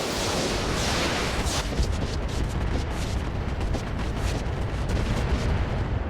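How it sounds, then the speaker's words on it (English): MRM missiles launched at an Orion mech in RogueTech, a rapid volley of rumbling blasts and booms in a dense, continuous salvo, loud and close with no talk over it. "So we're just going to fire the MRMs out at this Orion."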